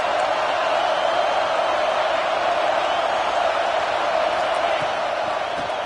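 A football stadium crowd roars in a steady, dense wash of cheering and whooping, loud and continuous throughout.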